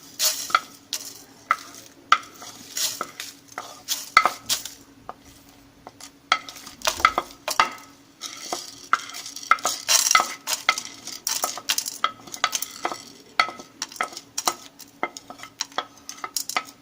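Dry whole spices for chana masala are stirred and roasted in a pan, a steady run of close, quick scraping and rattling strokes with a faint sizzle underneath.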